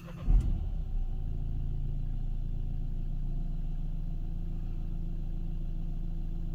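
A Nissan Qashqai engine cranks and fires with a brief loud burst, then settles into a steady, even idle that holds close and constant, with no voices.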